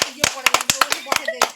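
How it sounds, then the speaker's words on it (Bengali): A small group claps for the winner of a fuchka eating challenge, quick uneven hand claps close by, mixed with excited voices. "একটা হাততালি"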